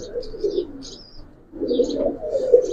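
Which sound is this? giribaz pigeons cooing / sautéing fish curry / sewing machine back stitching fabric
giribaz pigeons cooing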